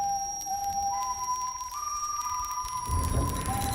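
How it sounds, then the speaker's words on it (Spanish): The villain Wolf whistles in an animated film, a clear, thin tone that steps upward in pitch in a few sustained notes before a brief rumble breaks in near the end. "Luego está su silbido."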